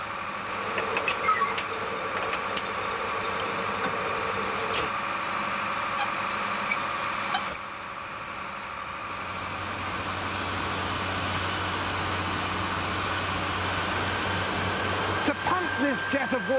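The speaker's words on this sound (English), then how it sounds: "This jet of water, 70 feet up in the air here, it takes that huge, big, noisy engine down there." A large, noisy engine pumps a water jet 70 feet into the air, giving a continuous mechanical drone and roar with a slight shift partway through, while someone talks over it.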